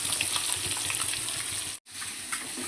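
Fish frying in oil in a pan for a traditional-style fish curry, giving a steady, close, bright sizzle with crackling that breaks off briefly near the end and then resumes.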